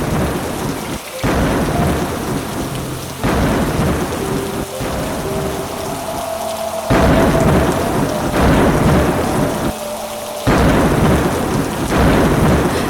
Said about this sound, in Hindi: अचानक आसमान काला पड़ गया और ऐसी मूसलाधार बारिश शुरू हुई